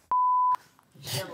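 A loud electronic buzzer lets out one steady, clear beep of about half a second, followed by a quieter murmur of a voice.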